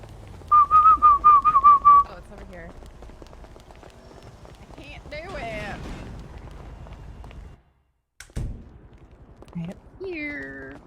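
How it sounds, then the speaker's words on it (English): Short warbling whistles repeat rapidly near the start in the game GTA roleplay, followed by scattered talking and muffled movement noise. "I was practicing trying to whistle."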